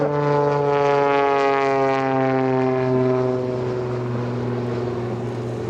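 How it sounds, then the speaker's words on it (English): A seaplane flies overhead during an airshow seaplane showcase at EAA AirVenture 2024, its propeller drone loud, steady and strongly tonal, the pitch easing slightly lower as it passes, with no talking. "Jeff Coleman's coming, one of our favorite seaplanes, a local from Minneapolis, Minnesota."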